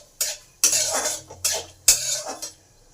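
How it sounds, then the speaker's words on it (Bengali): A utensil stirs cardamom pods, cinnamon stick and lentils frying in a pan, making four or five sharp scraping, clattering bursts separated by short pauses. Any sizzle stays faint beneath the metal-on-pan strokes. "এগুলোকে ভালো করে ভেজে নেব।"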